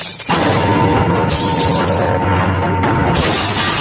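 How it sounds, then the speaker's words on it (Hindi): Glass shattering in a horror scene as a mirror is smashed with a stick, a loud sudden crash that bursts in and sustains a dense spray of breaking shards for several seconds. "प्रखर के शीशे को तोड़ते ही"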